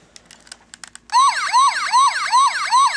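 A Transformers Animated Leader Bulkhead toy lets out an electronic siren, a rapid repeating wail of falling sweeps, after a few light plastic clicks and taps.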